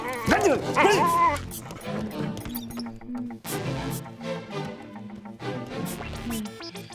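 A dog barks and yips in an indoor comedy scene, with sharp, loud yaps early on and further bursts later, mixed under busy shouting voices and background music.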